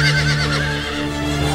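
A cartoon horse neighs loudly in a long, wavering whinny that fades over about a second and a half, heard alone with no talking.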